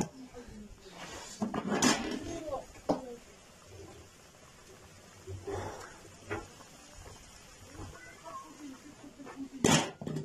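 Cooking pots handled outdoors at a rural gathering: metallic clanks and scrapes of pots and lids come in several bursts, close up, with a person talking between them.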